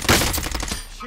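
Rapid bursts of video game gunfire crackle loudly and close, with several overlapping shots in quick succession during a firefight.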